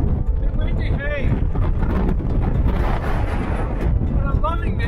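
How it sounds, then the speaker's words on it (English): Strong wind roars and buffets the microphone on the Solomon's Throne summit in Walls of Jerusalem National Park, Tasmania, a steady loud rumble that runs the whole time, with a voice briefly audible. "Bit windy, hey."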